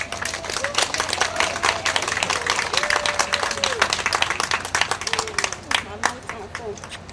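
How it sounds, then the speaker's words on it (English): An audience at a community center event bursts into sustained, lively applause, dense clapping filling the room for the whole stretch while a voice speaks over it. "Let's give her a big round of applause"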